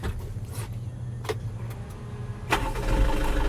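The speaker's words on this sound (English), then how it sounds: "now let's get the engine started. Let's hear the engine sound." A Mitsubishi FUSO Canter truck engine turns over and catches about two-thirds of the way through, then settles into a steady, low idling rumble up close.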